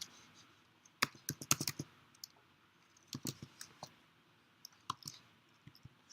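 Keys clacking on a computer keyboard nearby in short irregular bursts of quick taps separated by pauses, quiet room with no talking.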